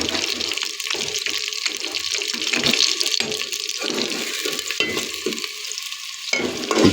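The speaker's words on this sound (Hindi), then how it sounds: "प्याज डाल दिए मैंने। अब ये फ्राई होंगे।" Chopped onions frying in a pan for chicken shorba, a steady hiss of sizzling broken by stirring scrapes and occasional running-water sounds, close and fairly loud with no talking.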